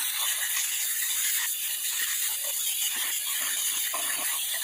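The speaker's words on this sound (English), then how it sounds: "it's time to hit it with the water" A garden hose fitted with a shutoff valve sprays a fine, misty fan of water over a car engine bay, a steady, even hiss of spray holding throughout without a break.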